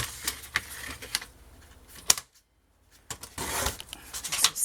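Paper being cut by hand for a scrapbooking box with a lid for an album: crisp, close snipping bursts in quick succession, a short silent pause, then a denser run of cutting. No talking.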